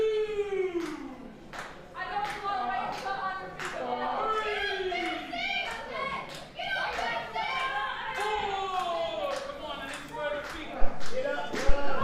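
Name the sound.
wrestling crowd clapping and rallying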